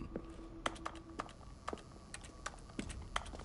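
Sharp mouse or keyboard clicks in the video game The Stanley Parable, about a dozen crisp, irregularly spaced taps over a faint background hum, with no talking.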